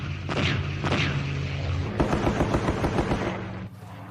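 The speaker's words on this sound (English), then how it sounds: "The aircraft made 3 heavy bombing and strafing runs." Machine-gun fire and bomb blasts from attacking aircraft during a Vietnam War battle at Lang Vei near Khe Sanh. A rapid close burst of automatic fire with heavy booming impacts, fairly loud and continuous, with no talk.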